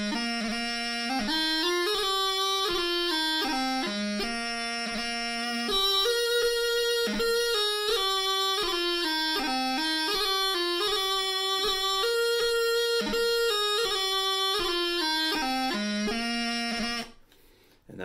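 A Great Highland bagpipe plays the quick march Mairi's Wedding, a loud, continuous reedy melody over an unbroken drone, moving briskly through quick grace-noted notes before cutting off at the end.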